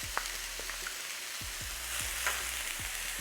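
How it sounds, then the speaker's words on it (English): Oxtail sautéing in a pan with minced garlic sizzles steadily and close by, with a few soft stirring knocks breaking in. "So I just wanna saute just for a little bit."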